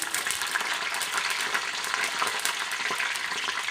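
Green chilies dropped into hot oil for Telangana-style sambar sizzle and crackle steadily, a dense close frying hiss with small pops throughout and no voices.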